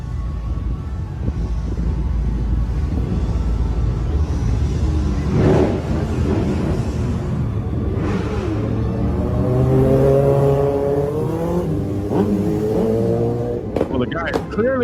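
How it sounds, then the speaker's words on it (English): A motorcycle engine revs up in a rising, strained sweep near the middle, ridden by a drunk rider with the kickstand still down, heard under ongoing talk and background traffic noise. "He's trying to ride his motorcycle."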